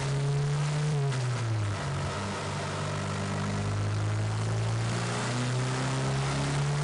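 Car engine running on a dyno roller in first gear with an AEM Tru Boost gauge-type boost controller, a steady droning tone rising and falling as the turbo spools up, loud and continuous with no talk.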